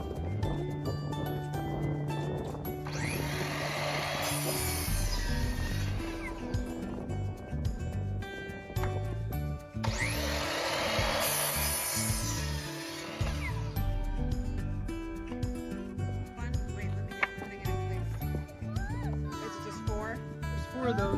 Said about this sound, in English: a 2x6 is cut into 4 10-inch pieces